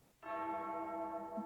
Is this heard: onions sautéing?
no